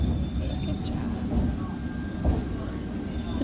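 Underground train rumbling and slowing, with a low steady roar and faint wheel squeals rising now and then, some quiet voices in the carriage.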